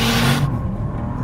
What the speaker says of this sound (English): gonna launch it, left foot on the brake, everything in sports mode, for the throttle, launch control is activated